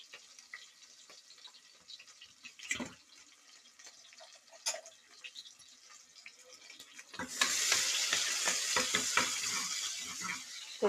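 Chopped onions hit hot oil already holding mustard seeds and cumin, a few scattered pops and clinks giving way to a sudden loud, steady sizzle that keeps going to the end.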